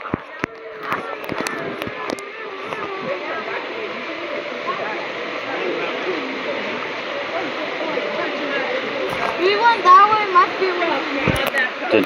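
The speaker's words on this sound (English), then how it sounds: "waves are starting" Waves churn in a water park wave pool, a continuous rushing wash with splashes, while people's voices carry under and over it throughout.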